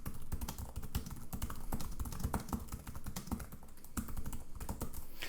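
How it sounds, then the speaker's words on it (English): Rapid, close-up keystrokes clatter on a Xiaomi Mi Notebook Pro chiclet laptop keyboard in a continuous, slightly uneven rhythm of soft, flat taps. "we have that really nice tactile feel when typing on this thing"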